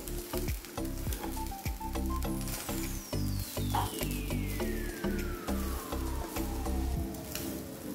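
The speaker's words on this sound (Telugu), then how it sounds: "మనం ప్రిపేర్ చేసుకున్న రైస్ కొద్ది కొద్దిగా వేసుకొని కలుపుకోవాలి" Capsicum masala rice is being stirred and mixed in a hot pan, giving a steady sizzle and frying crackle with repeated scraping strokes of the spoon, close and continuous with no talking.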